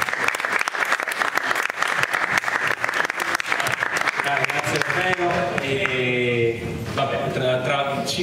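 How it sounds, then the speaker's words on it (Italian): Indoor audience applause at a cultural event, steady clapping for about five seconds that tapers off as a voice begins speaking. "quindi un applauso per lui."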